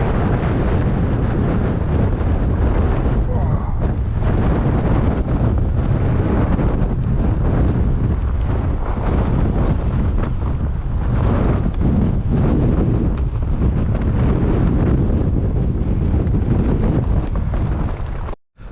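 Strong wind roars across a hilltop summit, Kidsty Pike on the Coast to Coast trail, buffeting the microphone in a loud, continuous rumble that barely lets up before cutting off abruptly at the end.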